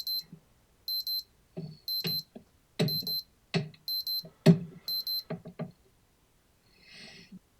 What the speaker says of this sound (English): That sounded more like a watch or a phone alarm.